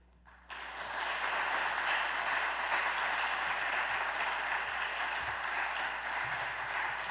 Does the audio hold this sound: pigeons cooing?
no